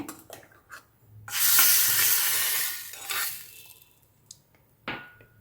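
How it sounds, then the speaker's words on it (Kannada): A tempering of mustard seeds, asafoetida and curry leaves hits hot oil and pours into a bowl of chutney, giving a sudden loud sizzling hiss that fades, followed by a few light clinks and spatters. "ಎಣ್ಣೆ ಹಾಕಿರೋ ಒಗ್ಗರಣೆ"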